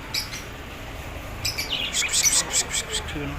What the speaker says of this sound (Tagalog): So, ah, may mga ibon dito.